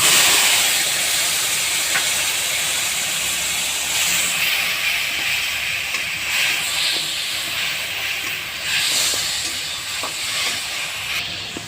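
Tomato pieces dropped into a hot pan of oil with dried and slit green chillies while cooking a vegetarian kudri dish, giving a steady broadband sizzle and hiss that holds throughout at moderate loudness with no talk.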